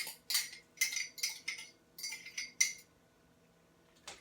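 Metal utensils clink and scrape against a bowl while salsa is mixed into a large salad, with a run of quick, close clatters followed by a pause and one last faint clink.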